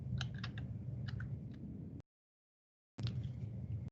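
Quiet computer keyboard typing, a run of soft irregular key clicks that stops for about a second, then resumes briefly.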